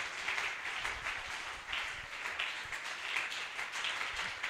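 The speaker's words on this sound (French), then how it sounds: "Acclame encore fortement." A church congregation applauds during a Sunday service, with sustained, fairly soft clapping from many hands blending into a continuous patter heard at a distance, with no speech over it.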